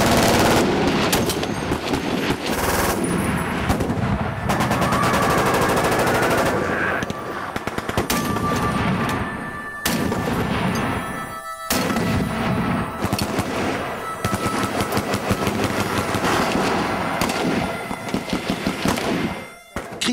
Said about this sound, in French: Quand une arme automatique tire juste à côté, on sent l'air qui bouge tout autour.